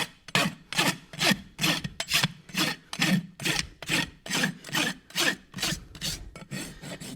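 A rasp files the burr off the clinches of horseshoe nails in a steady run of about fourteen rhythmic back-and-forth strokes, close and clear, with no talking.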